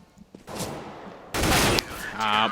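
Gunfire in a professional CS:GO match on the Train map, Virtus.pro against fnatic: a few sharp shots, then a loud burst of rapid fire ending a round, with a caster talking over it.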